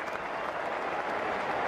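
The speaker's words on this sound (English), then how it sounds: "Lords will stand to applaud England's captain back at the pavilion" Crowd at Lord's cricket ground applauding a Test match captain returning to the pavilion after a century, a dense, steady wash of clapping that fills the whole moment with no break.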